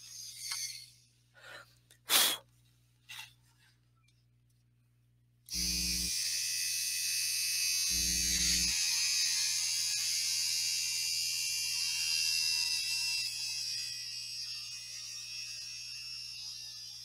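Seyco scroll saw drill boring through stacked pieces of wood: after a few soft breaths and clicks, a loud, steady high-pitched whine starts and holds for about twelve seconds, with a brief heavier low thump near the beginning.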